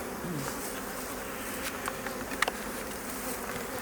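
Honeybees buzz around an open hive during an inspection, a dense steady hum close by with a few sharper individual bee passes and light clicks of frames.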